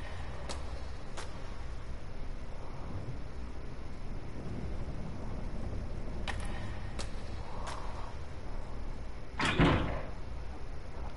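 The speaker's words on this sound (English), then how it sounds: "I hear a noise, something slamming against the door." In the horror video game Death Mark, something slams against a door in several separate heavy knocks and thuds, with the loudest near the end, over a low, quiet ambient hum.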